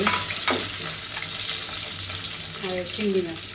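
Garlic frying in a pan for radish curry, a steady close sizzle with occasional stirring scrapes and a faint voice underneath.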